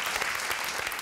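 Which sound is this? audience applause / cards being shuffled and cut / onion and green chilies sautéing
audience applause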